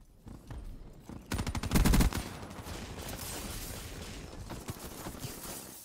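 Rapid gunfire from Call of Duty Black Ops 3 gameplay, with dense bursts of automatic shots that peak loudly in the first seconds and then keep up as steady, slightly quieter firing and game action.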